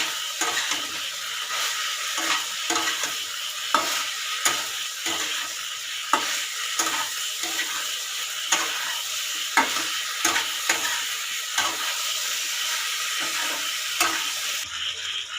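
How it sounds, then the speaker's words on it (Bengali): Fried soybean chunks being stirred in a pan for restaurant-style soya chilli, a steady sizzle broken by repeated scraping strokes of a spoon, close and fairly loud, with no talking. "ভেজে থাকা সোয়াবিনটা দিয়ে দিচ্ছি, আবারও ভালো করে নাড়িয়ে নিচ্ছি।"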